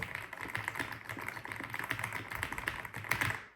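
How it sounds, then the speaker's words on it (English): Typing on an AULA F108 Pro full-size mechanical keyboard gives a quick, continuous run of light clacking keystrokes, close up but fairly quiet, with no voices. "I can go ahead and type something."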